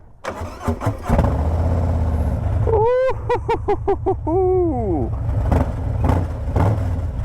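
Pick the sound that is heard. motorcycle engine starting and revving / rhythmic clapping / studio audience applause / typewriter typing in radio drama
motorcycle engine starting and revving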